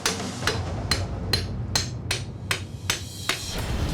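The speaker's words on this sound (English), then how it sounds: "I'm gonna use a hammer and just knock off some of the rough stuff left in the torch cut." Hammer knocking rough slag off the torch-cut edge of a steel saw blade, about nine sharp, evenly spaced metallic strikes over a low steady background hum, with no talking.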